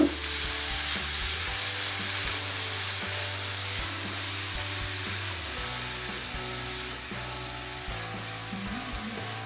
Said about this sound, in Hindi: पैन के अंदर ये मैं गाजर डाल दूँगी और इन्हें भी रोस्ट कर लेंगे।